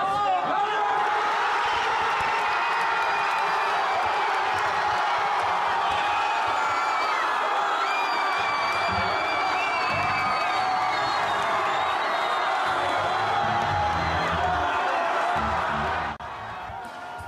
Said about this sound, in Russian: Особое ликование у присутствующих вызвал второй забитый гол